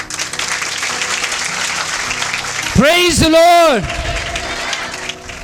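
A church congregation clapping hands together in a burst of applause, loud and close, while a man sings or calls out over it.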